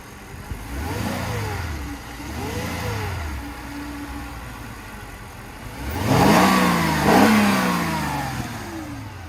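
A Mercedes W140 engine running after repair, heard close as it idles smoothly and is revved a few times, with two clear rises and falls in engine pitch early on and a louder, longer rev near the end.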